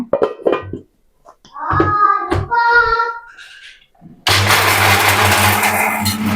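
A home mixer grinder grinding dry fruits and grains kicks on with a loud, steady whirring roar after someone speaks and a few clinks sound beforehand.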